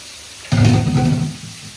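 Potatoes drop into hot oil tempered with black cumin seeds, making a sudden close sizzle that bursts loudly, holds for about a second, then quickly fades.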